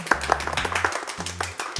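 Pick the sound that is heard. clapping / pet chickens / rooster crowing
clapping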